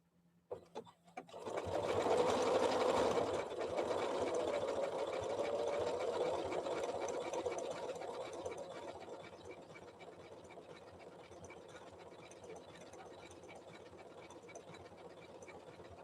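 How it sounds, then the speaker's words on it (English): Janome Memory Craft 7700 sewing machine running a quilting stitch, a steady fast mechanical whir that starts after a brief knock, holds loud for several seconds, then eases slightly and continues evenly to the end. "For Joelle, quilting stitch 110"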